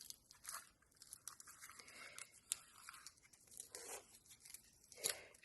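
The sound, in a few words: opening a wrapped Action Christmas package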